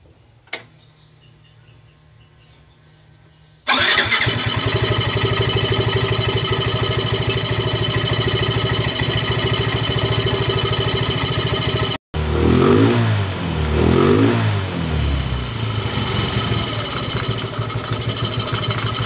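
A Yamaha Mio M3 scooter with a rough-running engine that won't rev properly is started after a few seconds of near silence, then runs loudly and steadily up close, with throttle blips and revving near the end.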